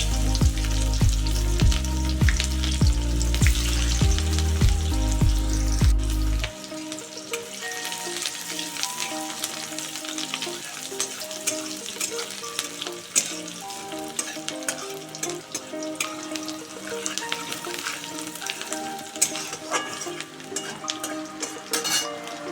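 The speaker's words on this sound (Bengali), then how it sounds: "ফোড়নগুলি ভাজা হয়ে যাওয়ার পর তার মধ্যে পেঁয়াজ কুচিগুলোও দিয়ে দিলাম" Chopped onions sizzle in hot oil with tempering spices while aloo posto is being made. A loud, steady frying hiss runs throughout, with tonal background music that is strongest in the opening seconds.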